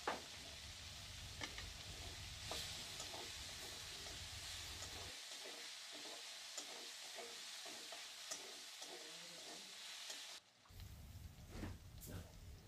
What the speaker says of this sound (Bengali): পেঁয়াজগুলো এখন আমি হালকা ব্রাউন কালার করে ভেজে নেব।